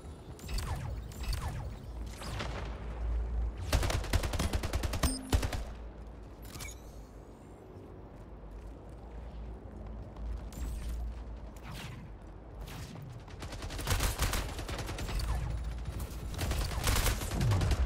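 Shotgun blasts in the arena shooter Splitgate crack out in quick sharp bursts, some clustered tightly together, separated by quieter stretches of mechanical clatter and in-game action.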